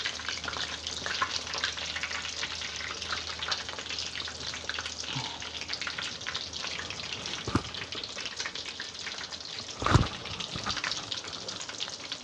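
Pork frying in a pan, a steady close sizzle with occasional stirring scrapes and a couple of louder clunks, no talking.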